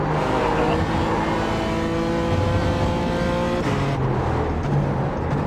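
Race car in the iRacing sim, engine revving high with a sweeping pitch rise and a sharp upshift drop near the end, the roar continuing loud and close with no talk.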